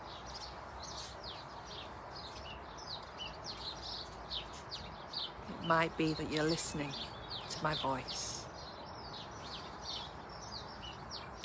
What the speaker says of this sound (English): We're just listening to the different birds. Some are chitter-chattering, some are singing.